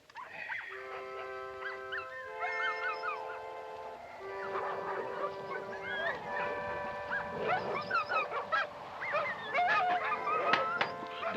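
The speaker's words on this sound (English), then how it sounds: "Dogs are noisy tonight." Dogs howl and bark together at night, a chorus of long wavering howls and yips heard at a distance, rising and overlapping throughout.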